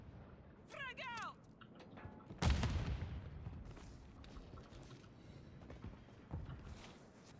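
A frag grenade detonates in Modern Warfare III, a sudden loud blast that rolls off into a decaying rumble, with game gunfire and effects around it and players talking over the action.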